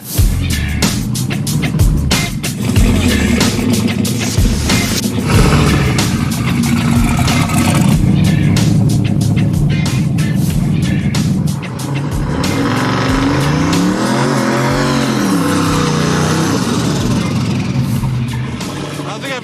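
Hot rod drag car engine revving hard on a drag strip pass, a loud continuous roar with rising and falling revs and crackling bursts, heard up close throughout.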